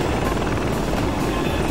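A helicopter in the FlightGear flight simulator game drones steadily and loudly, its rotor and engine noise continuous and unbroken throughout, with no talking.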